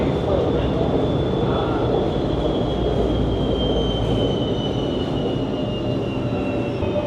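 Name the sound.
LRT train passing another train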